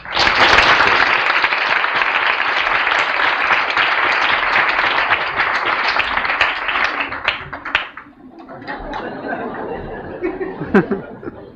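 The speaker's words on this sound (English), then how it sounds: "Let's have a big round of applause for him." Sustained audience applause at the opening of a 1988 symposium on reincarnation and disease, with scattered chuckles and laughter, loud and dense for about eight seconds before thinning to a few claps and light crowd murmur.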